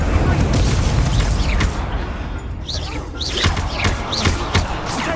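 A fire spell is cast in the Hogwarts Legacy video game, heard as a burst of broadband whooshing with a low rumble and several short sweeping magical flourishes.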